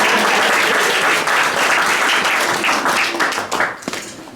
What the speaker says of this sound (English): Y'all can clap, you can clap.